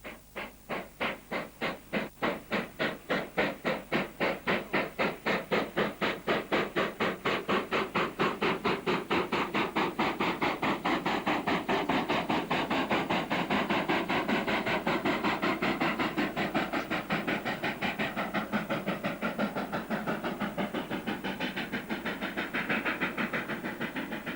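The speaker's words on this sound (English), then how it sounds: "the famous Trans-Oranje Express departed from Belmont behind Class 25 NC, number 3411" A Class 25 NC steam locomotive hauls the Trans-Oranje Express, its exhaust beats coming fast and regular, then blurring into a continuous chuffing roar with hiss, loud and sustained throughout.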